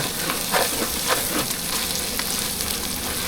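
A pumpkin soup base browning in a pot, loud continuous sizzling close by with repeated scraping stirs running through it and no voice over it.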